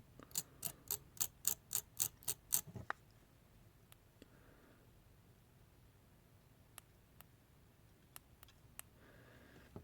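A stainless steel vape coil strummed while dry firing gives a quick run of about ten evenly spaced sharp clicks, then a few scattered faint ticks over near silence.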